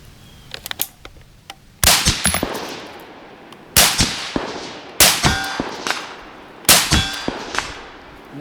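Rounds from an AUG light machine gun strike steel targets at 250 yards, each hit a sharp crack followed by a ringing clang, five loud shots spaced about one to two seconds apart with fading tails.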